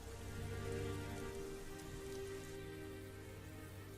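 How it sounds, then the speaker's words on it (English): Rain falling in the video game Devil May Cry 3, a dense, steady hiss of drops hitting surfaces, constant and even throughout with no voices. "It is raining like it was in the dream sequence."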